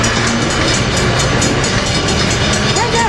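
An Amtrak F59PHI locomotive hauling a train on the Surf Line at San Juan Capistrano, a loud close rumble with rhythmic wheel clatter passing continuously.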